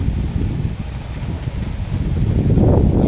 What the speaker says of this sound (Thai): ก็จะมีลม ลมมากับฝนนะครับ แต่ลมไม่แรงนะครับ